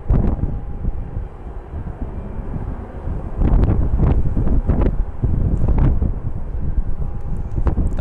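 Several NASA T-38 trainer jets depart in formation from a lakefront airport, a steady loud roar of jet engines with gusty wind buffeting the microphone, no voices.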